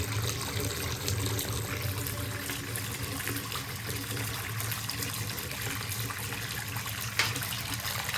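Water from a tap refilling a lavatory sink with a pop-up drain, a steady, close gushing and trickling flow that runs without a break and with no voices.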